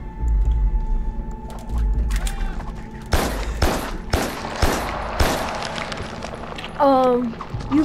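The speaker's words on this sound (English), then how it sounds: "You probably want to take those gunshots back." In the video game Carrion, five sharp gunshots crack out in quick succession about half a second apart after a quiet lead-in, with a low hum underneath and a player talking around them.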